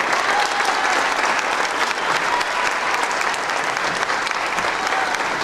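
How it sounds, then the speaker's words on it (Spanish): A large audience applauds at a presentation of a children's arts and literature project, loud, dense and sustained clapping that fills the whole stretch without pause. "que se escuchen los aplausos para Cristian Joana Armendáriz Contreras"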